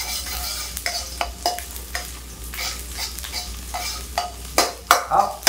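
Ginger stir-frying in a wok over high heat sizzles steadily as a metal spatula scrapes and clanks against the pan in quick irregular strokes, close and loud.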